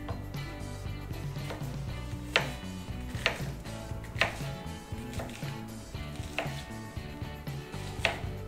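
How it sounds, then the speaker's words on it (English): Knife dicing onions on a chopping board, lengthwise then across, for a sausage salad; a handful of sharp knife taps land irregularly over a steady layer of background music, with no voices. "I simply dice them, cutting down its length and then down its width"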